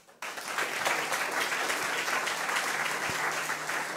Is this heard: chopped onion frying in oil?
no